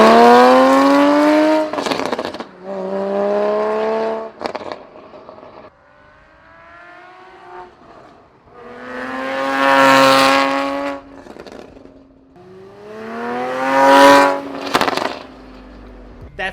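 A GT4 sports car fitted with a custom titanium exhaust and catless headers drives by several times, loud rising engine notes sweeping past with sharp upshifts and fading between passes.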